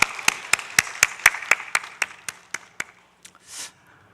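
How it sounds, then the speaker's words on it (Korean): Church congregation clapping in praise during a worship service, a slow, evenly spaced run of about a dozen crisp unison claps that fade out, followed by a brief soft rustle. "하나님께 영광의 박수 올려드리겠습니다"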